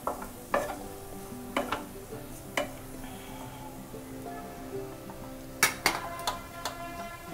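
Poha (flattened rice) and vegetables are stirred in a pan: a soft sizzle runs under irregular spoon clinks and scrapes against the metal, several sharp knocks clustering near the end.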